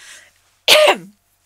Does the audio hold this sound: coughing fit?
yes